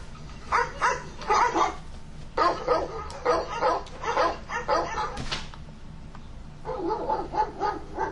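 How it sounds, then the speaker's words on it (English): A dog barks repeatedly in short bursts, fairly close and loud, with a pause mid-clip before the barking resumes over a low background hum. "What's with your damn dog clips?"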